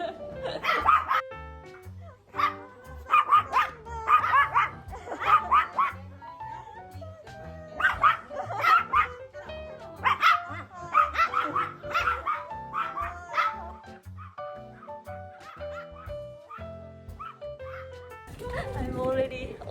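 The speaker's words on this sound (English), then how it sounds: "Lots of dogs coming to me." Several small dogs at a dog cafe in Akihabara bark, yip and whimper close by in frequent overlapping bursts, with a person talking now and then.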